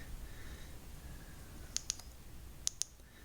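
Keys pressed on the keypad of a Yaesu VX-8GR handheld radio give faint, crisp clicks, two close pairs about a second apart, over a low steady background hiss.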